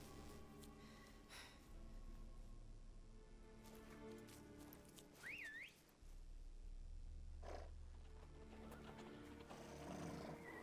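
Horses in The Witcher video game, several whinnies and snorts with hoof clops, one clear rising-and-falling neigh in the middle, against game ambience.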